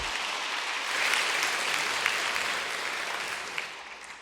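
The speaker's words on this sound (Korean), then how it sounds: "이럴 때 박수 한번은." Dense applause from an audience at a church women's association retreat, steady and fairly loud throughout, with no speech over it.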